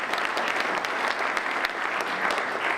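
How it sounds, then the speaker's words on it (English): Brief round of applause from members at a Rotary Club meeting, a dense even clapping from a roomful of people, fairly close and steady for a few seconds. "Hal Hoffman, round of applause, please."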